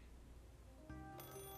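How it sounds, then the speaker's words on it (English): A telephone in the game Assemble With Care begins ringing after a quiet, low hum, its bright electronic tone building and sustaining to the end, fairly faint overall and with no voices. "Just then, the phone rang."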